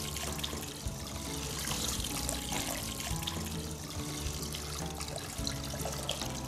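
Water is poured and trickles into a bowl of rice being rinsed, a steady close splashing and dribbling that lasts about six seconds at moderate level, with no talk.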